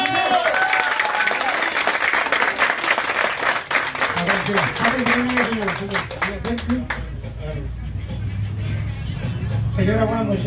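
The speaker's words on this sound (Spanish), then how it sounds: "un fuerte aplauso para Lía" A crowd at a charity taco gathering gives a loud burst of applause for a girl named Lía. The clapping fades after several seconds into murmuring voices and background noise.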